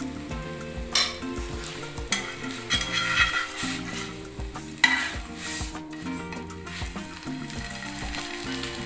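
A gur paratha cooking on a hot pan with ghee, with a steady sizzle broken by scraping and clattering as the flatbread is flipped and spread, all close and fairly loud.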